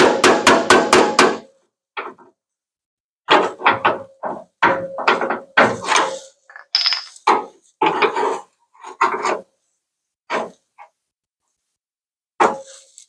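Hammer blows knock out a dent in sheet metal, beginning with a fast burst of about six sharp raps, then irregular clusters of taps and scrapes with quiet gaps between them, close and loud.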